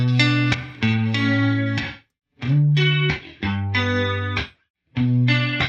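Instrument phrases passed through the Pro-R reverb plugin with its character control set for a chorus effect, giving sustained, wavering tones in several loud bursts separated by short gaps, with no talking.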